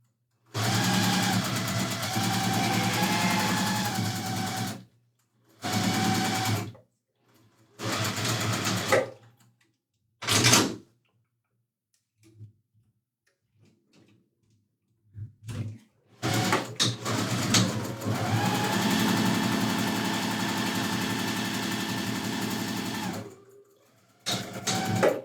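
Sewing machine running at high speed while stitching quilt blocks, heard in several long, steady bursts of fast whirring separated by pauses and quiet gaps, close and fairly loud.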